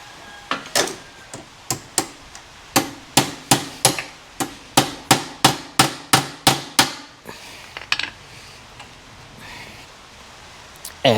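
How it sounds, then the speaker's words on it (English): A hammer strikes a chrome handlebar-mounted motorcycle mirror mount on a VL250 bobber, about twenty sharp metallic whacks in a quick irregular rhythm, close and loud, followed by a brief pause and two more knocks. "just give the mount a good whack to sort of bring it together"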